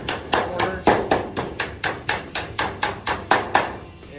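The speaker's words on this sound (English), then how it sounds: "I'm just lightly working it, and I'm dragging the hammer as I go" A hammer strikes aircraft sheet metal over a dolly while building a Bearhawk, sharp evenly spaced metallic blows landing about four times per second, close and loud with no voices.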